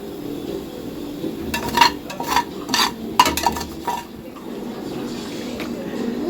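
A sizzling tempering is stirred into yogurt in a home kitchen, with a spoon scraping and clinking against the bowl in a few close bursts over a low background murmur, with faint voices.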